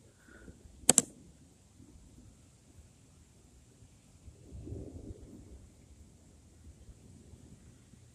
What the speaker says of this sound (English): We're having a thunderstorm right now.